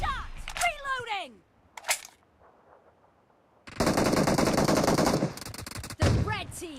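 Gunfire rings out in an online shooter video game: a few sharp shots early on, then a long, loud, sustained automatic burst followed by another crack, with voices calling out over the action.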